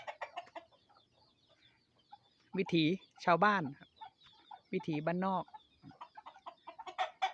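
Chickens clucking on a rural Thai farm, several short bursts of clucks and calls close by, with someone talking in between.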